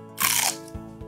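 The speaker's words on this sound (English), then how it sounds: "the celery, it wasn't very soft. It was definitely crunchy." A single loud, close crunch from biting into raw celery, a sharp crisp snap followed by quieter chewing.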